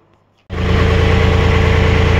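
A Valmet 502 tractor engine catches abruptly and runs with a steady, loud, throbbing diesel rumble close by, holding an even pulsing rhythm.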